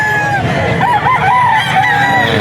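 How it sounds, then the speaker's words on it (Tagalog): At the Bocaue pet market, a rooster crows close and loud, one drawn-out wavering call lasting about two seconds over a murmur of background market noise. "Ito pa mga manok niya."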